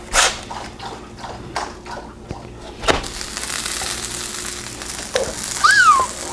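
A pizza grilled cheese sandwich sizzles in a hot pan as it is flipped, with a soft steady frying hiss, a few scraping and tapping bumps from the spatula, and a brief squeak near the end.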